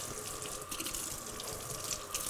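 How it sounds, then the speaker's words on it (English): Water from a kitchen sink tap runs steadily and close by while a knife is rinsed under it, a continuous hiss and splash with no voices. "You walk over, turn on the water, clean it off."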